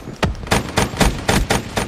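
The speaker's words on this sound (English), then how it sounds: "Let's shoot these guys in the back." Rapid automatic gunfire from a first-person shooter game, a steady string of about eight loud, close shots in quick rhythm with no talking.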